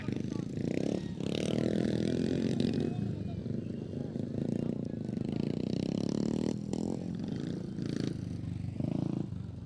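350cc dirt track motorcycles racing through the final lap of a men's novice event, engines droning and revving continuously, loud and close, with a commentator talking over them throughout.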